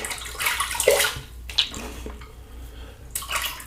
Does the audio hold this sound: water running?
yes